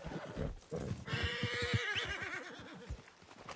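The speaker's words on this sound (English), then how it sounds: "Are you gonna mount that new horse of yours or not?" A horse in Red Dead Redemption 2 gives a loud, close whinny that rises and falls, while hooves clip-clop in a steady walking rhythm beneath and after it.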